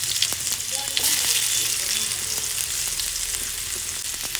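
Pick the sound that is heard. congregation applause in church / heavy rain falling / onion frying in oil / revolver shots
onion frying in oil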